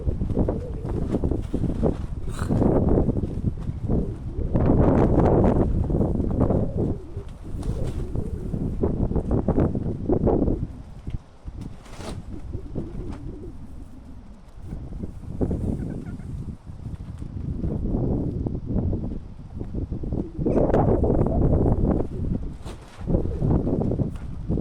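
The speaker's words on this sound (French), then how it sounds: "Il y a du vent" Gusty outdoor wind buffets the microphone in loud, continuous low rumbles that swell and ease over about twenty-five seconds, with occasional faint animal calls mixed in.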